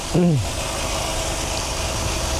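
A Mercedes W126 300SEL engine idles steadily, tested after repair of a faulty fuel distributor, with a continuous low rumble and a brief voice-like sound near the start.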